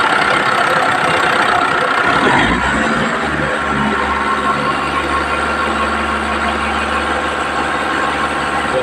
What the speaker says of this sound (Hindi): तो अभी हम ये जो ग्रे कलर की गाड़ी है वो स्टार्ट करेंगे। स्टार्ट करके इसे हम थोड़ा एक्सेलरेट करेंगे।